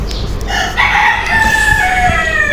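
One-day-old broiler chicks in a brooding pen; a loud, close, drawn-out fowl call with falling pitch sounds over a constant background hum.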